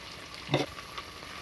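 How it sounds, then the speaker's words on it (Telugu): Mint leaves fry in a pan for chicken curry and get one quick stir, a brief scraping burst over soft, steady sizzling. "పుదీనా వేసిన తర్వాత ఒకసారి తిప్పుకోవాలి"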